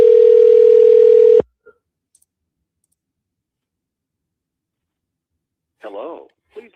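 A steady telephone tone sounds loudly for over a second and cuts off, followed by a faint click, a long silence and then a brief burst of speech near the end.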